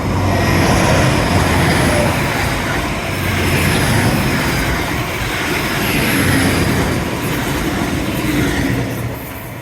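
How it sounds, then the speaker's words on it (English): A train runs along the seawall at Teignmouth, a loud, continuous rumble and rolling clatter of wheels on rails that stays heavy and close throughout, with no talk over it. "Yay, train!"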